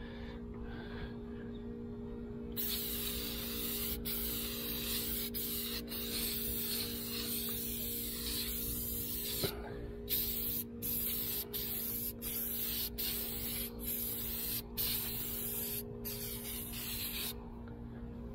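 Hydro dip activator hissing from an aerosol can onto a skateboard, long steady bursts of close spray broken by short pauses and a few clicks, with no talking.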